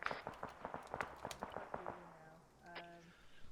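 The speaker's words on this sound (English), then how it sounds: "still taking sporadic gunfire from the northeast" Sporadic gunfire during a military platoon patrol exercise, a burst of sharp rapid cracks at fairly close range, then a few tonal electronic beeps as the shots stop.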